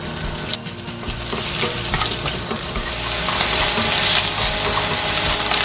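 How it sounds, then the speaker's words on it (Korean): Sausage, bacon, carrot and onion sizzle and crackle in butter in a hot pot while a utensil stirs and scrapes, the frying growing louder and denser toward the end. "냄비에 버터를 두른 다음 소세지, 베이컨, 당근, 양파를 넣고 볶아주세요"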